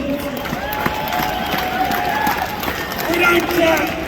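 A crowd at a union rally claps and cheers with scattered sharp claps over a steady roar, while a voice talks over it.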